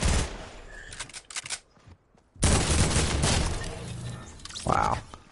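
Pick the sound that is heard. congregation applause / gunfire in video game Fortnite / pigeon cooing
gunfire in video game Fortnite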